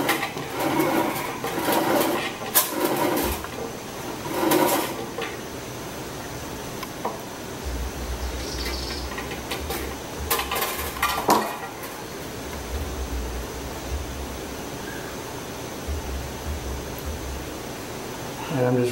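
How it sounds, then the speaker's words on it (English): Extra copper wire is rolled into a coil by hand, giving close, intermittent metallic clinks and light rustling over a low steady hum. "Rolling up the extra wire"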